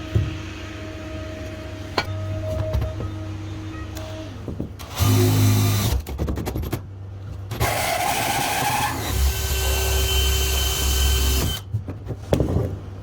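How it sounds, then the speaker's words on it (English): A DeWalt power drill cuts through material while a lorry trailer is converted into a spray booth. Harsh whining bursts start and stop over several seconds, loud and near, with rattling and clattering between them and no speech. "the power of this DeWalt drill is fantastic"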